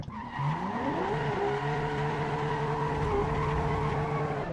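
Tyres spinning and squealing under full wheelspin in the Assetto Corsa EVO racing game, a loud continuous engine whine and screech with rising then steady pitch, held throughout with no talk.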